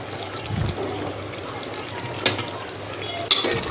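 A spoon stirs mutton curry with fresh coriander and mint in a cooking pot, making a soft wet churning with two sharp metallic clinks against the pot's side, close by.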